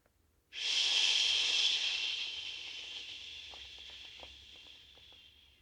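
A long, slow exhaled breath during qigong practice, a soft airy hiss that starts abruptly and gradually fades over several seconds, heard alone and close.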